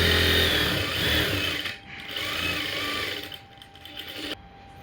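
A sewing machine runs steadily while stitching the top and bottom of an umbrella frock together, a loud close mechanical whir that pauses briefly, resumes, and then stops near the end.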